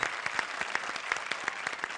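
Steady, even applause from a studio audience at a comedy show, a dense wash of many hands clapping at moderate level without speech.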